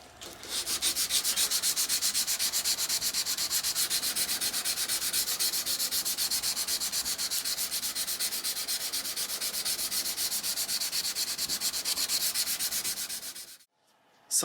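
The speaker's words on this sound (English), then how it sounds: "we're going to go ahead and start sanding this way" A 5160 steel knife blade is hand sanded with 320 grit sandpaper in fast, even back-and-forth strokes, a dense rhythmic scratching that runs close and steady before stopping abruptly near the end.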